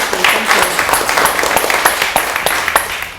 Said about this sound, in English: A big round of applause for Bao